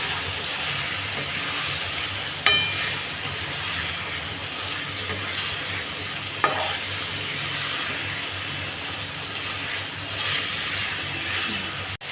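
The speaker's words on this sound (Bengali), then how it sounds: "মাংসটা ভালো করে কষিয়ে নেব, কেন আজকে চিকেন কষা হবে।" Chicken pieces being stir-fried for chicken kosa, a steady broad sizzle filling the whole stretch, with a few sharp scraping clicks scattered through it, no voices.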